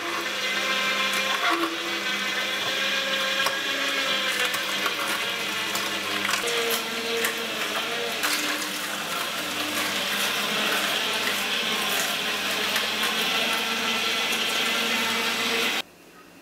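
A Juicepresso juicer grinds vegetables and apples in a steady, loud motor whir with crunching and rattling texture, running continuously without talk until it cuts off abruptly near the end.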